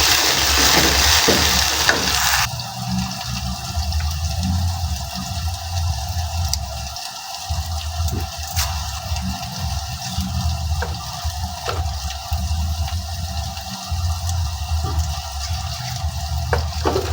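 Onions frying in a pan with Royco cubes give a steady, loud, broad sizzle that holds evenly, with faint clinks and stirring now and then, no voices.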